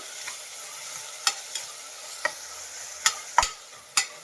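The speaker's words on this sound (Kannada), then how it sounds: "ಸೊಪ್ಪು ಎಲ್ಲ ಚೆನ್ನಾಗಿ ಫ್ರೈ ಆಗಬೇಕು." Mint leaves frying in a pan under repeated stirring: a soft continuous sizzle broken by sharp scrapes and clicks of the spoon against the metal, about half a dozen strokes spaced irregularly, close and fairly quiet.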